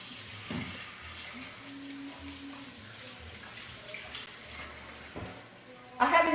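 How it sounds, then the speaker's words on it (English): A tap runs steadily as hands are rinsed in a kitchen, a soft continuous water hiss with a few faint clunks and a brief louder splash at the end, with a voice murmuring faintly. "let me rinse my hands because I touched the meat"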